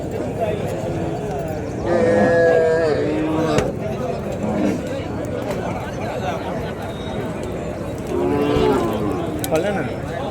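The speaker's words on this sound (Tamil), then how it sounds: "இதெல்லாம் பசு மாடு மற்றப்பள்ளியை பொறுத்த வரைக்கும் நல்லா பசு மாடுகள் நிறைய வரும்" Cows at the Madrapalli cattle market low loudly twice, a few seconds apart, close by, while people talk and chatter continuously around them.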